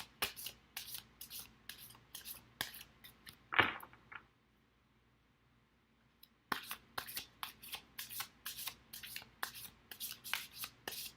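Tarot cards are shuffled in quick, crisp riffling bursts, then a pause of near silence before the rapid shuffling resumes, close and clear.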